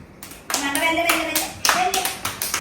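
Children clap their hands together in a room, sharp bursts of clapping mixed with children's voices singing and chattering close by.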